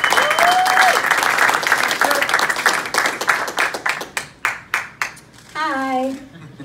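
A crowd at a boxing press conference breaks into sustained applause, dense at first, then thinning to scattered claps. Someone speaks over the start, and a voice follows at the end.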